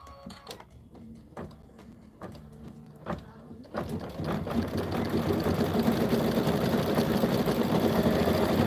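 Embroidery sewing machine stitching snowflakes, starting with a few separate clicks and thumps that build into a steady, fast, close mechanical whir of stitching.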